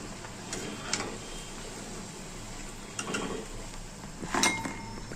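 Crisp fried madatha kaaza sweets shifted from pan to another bowl give scattered light clinks and taps of utensil on metal, a few sharper knocks standing out over quiet kitchen background.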